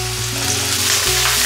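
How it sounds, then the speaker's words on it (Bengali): Potatoes lightly frying in a pan for a bottle gourd greens and poppy seed dish, giving a loud, close, continuous sizzle with no talking. "আলুটা হালকা ফ্রাই করে নিই"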